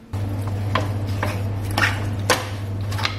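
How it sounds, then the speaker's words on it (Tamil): A spoon scrapes and stirs through mutton biryani with salt in a pot, a few soft scraping strokes over a steady low hum. "உப்பு சேர்த்து கொஞ்சம் கிண்டி விட்டுட்டு"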